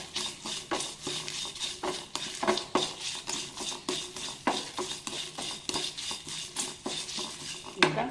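A spoon scrapes and stirs rhythmically in a pan while a small piece of onion roasts with urad dal for chutney, with steady metallic clinks and only a faint sizzle and no talking.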